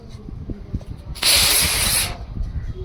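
A snake-type firework rocket lit on the ground gives a sharp, loud spraying hiss lasting under a second, alone against low background noise.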